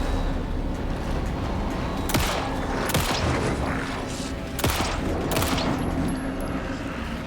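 Rapid gunfire in the survival horror video game Alan Wake 2, loud sustained volleys of shots with several sharper heavy blasts standing out, under a dense mix of game sound.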